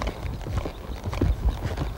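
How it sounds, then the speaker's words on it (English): A horse's hooves clop rapidly and unevenly as the mare is pushed to a quicker gait, close and fairly loud, with a faint voice underneath. "So I may just get after this horse a little bit, speed her up a little bit"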